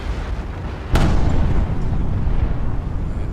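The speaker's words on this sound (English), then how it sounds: "The big Trinidad now is firing at my 2 ships." Ship cannon fire in a Napoleon: Total War multiplayer sea battle, a single loud booming shot followed by a long rumbling roar of battle noise, with no voices.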